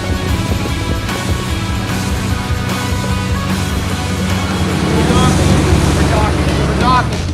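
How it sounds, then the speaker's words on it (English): A duct-tape-built race boat's engine drones steadily over water, with wind buffeting the microphone and splashing as the hull bounces; loud and continuous. "It's so wide, we built this race boat."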